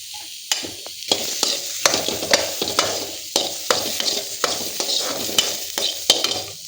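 Ginger and garlic, with onion, sauté in leftover oil for a fish sambar, giving a steady loud sizzle broken by repeated sharp scrapes and clacks of a spoon stirring against the pan, with no voices.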